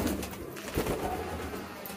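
Pigeons coo repeatedly in a loft or market setting, soft rhythmic burbling calls close by and fairly steady over a low background hum.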